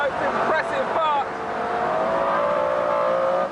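A McLaren supercar on the Goodwood racetrack accelerates hard. Its engine note climbs steadily in pitch, loud and close, with a brief shift-like break early on before it keeps rising.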